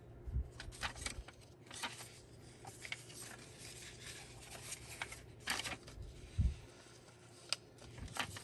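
Paper being folded and flipped for a mini journal cover, quiet crinkles and soft taps in irregular bursts, faint and close.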